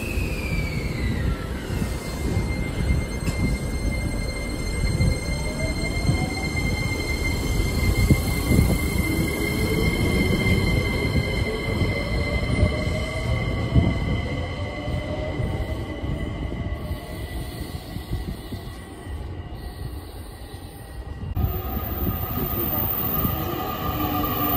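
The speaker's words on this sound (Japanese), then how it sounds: "ここで今から新幹線を撮ります" A Shinkansen bullet train rushes past at close range with a loud, sustained roar and a rising and falling whine from the rails, and no talking.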